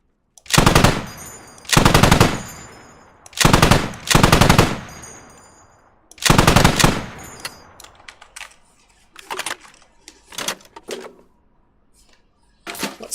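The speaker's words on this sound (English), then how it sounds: "The machine guns in this game are so satisfying." Machine gun fire in the video game Squad: four loud sustained bursts of rapid automatic shots, then shorter scattered pops fading toward the end, with no speech.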